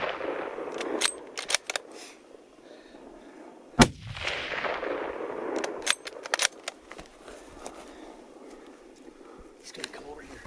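A hunting rifle fires one sharp, distant shot at a bull elk in Montana, echoing briefly across open country, with hushed voices talking quietly before and after.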